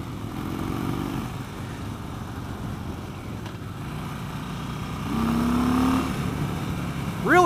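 A 2016 Harley Davidson Street Bob motorcycle in second gear at about 3,500 RPM gets goosed, its engine holding a steady low drone that swells louder near the end, with wind rushing throughout.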